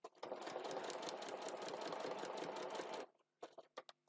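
A sewing machine runs a short stitch length while foundation-piecing a small fabric heart, a fast steady whirring hum for about three seconds, then stops, followed by a few brief clicks and short bursts.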